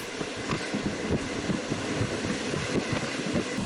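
Steady, loud rumble of a mixed passenger-freight train on a gentle mountain climb in Fujian, China, with rhythmic wheel-on-rail clatter and no voices.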